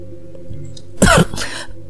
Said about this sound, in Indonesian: Tak lama terdengar suara batuk dari kamar.